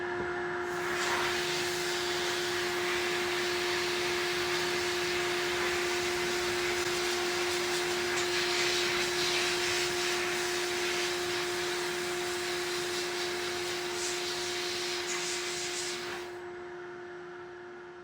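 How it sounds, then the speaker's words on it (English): Shop vacuum fitted with a Skat Trap cyclonic dust separator runs at a loud, steady whine and rush of air for about sixteen seconds, then cuts off and winds down. "Let's turn the vacuum on."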